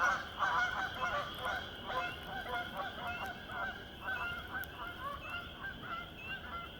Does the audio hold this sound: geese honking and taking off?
yes